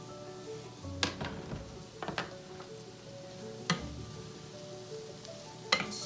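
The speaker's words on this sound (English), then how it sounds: "I'm going to go ahead and just pop those mushrooms in there." Mushrooms and shallots sautéing in butter in a pan, a faint low sizzle broken by a few sharp clacks and scrapes of a utensil against the pan, close and quiet.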